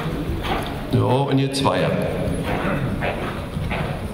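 Horse hooves clip-clop at a steady, soft, regular pace on the footing of a riding arena during a riding lesson, partly under a trainer calling out instructions.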